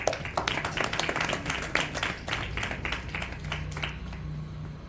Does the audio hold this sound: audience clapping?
yes